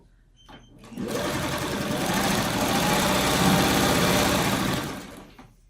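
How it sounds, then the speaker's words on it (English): A sewing machine stitches freeform quilt blocks together in one continuous, steady whirring run of about four seconds, starting and stopping abruptly, close and loud with no talk. "these two happen to be the same width, so let's sew them together"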